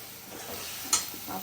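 Papad frying in hot oil in a home kitchen, a soft steady sizzle with a brief sharper crackle near the end, heard alone at a moderate distance.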